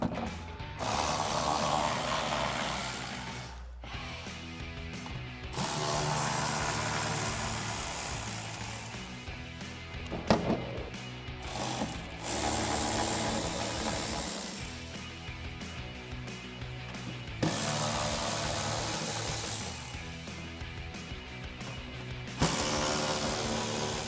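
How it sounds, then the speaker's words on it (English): A hand ratchet with an 8mm socket clicks in repeated bursts, close up, as screws are backed out of Jeep Wrangler TJ fender flares, with short pauses between runs and no talk. "we're going to grab our 8mm socket on our ratchet and go ahead and remove all those"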